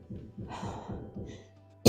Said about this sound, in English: you can always do a little cough